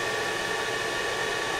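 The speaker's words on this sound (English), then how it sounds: "So I'll just go and put the extractor fan on." An extractor fan runs on a home-built wet blasting cabinet, producing a steady, even airy whoosh at moderate level with no voices.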